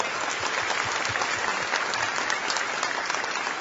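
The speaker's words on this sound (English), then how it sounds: "Let's have a round of applause for them." Steady applause from a crowd at a college football signing day luncheon, dense clapping that holds evenly throughout without a break.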